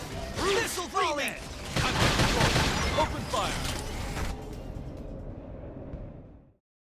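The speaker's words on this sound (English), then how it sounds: "I didn't realize Nagi also used Gatling guns." Rapid Gatling gun fire in Xenoblade Chronicles X, with Nagi as the shooter, forms a dense, loud, sustained clatter amid other battle effects. Talk runs over it before everything cuts off sharply near the end.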